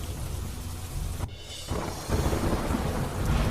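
Heavy downpour on the Vadodara expressway, a dense steady roar of rain with a sudden loud crack of thunder partway through, then the rain surges stronger; no talking.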